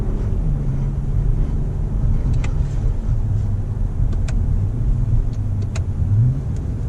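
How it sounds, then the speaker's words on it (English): A 2019 Toyota Avalon engine hums steadily with a low exhaust rumble that swells briefly as revs shift during downshifts, with faint ticking clicks above. "the exhaust has a little bit of sound that sounds pretty good when you downshift it"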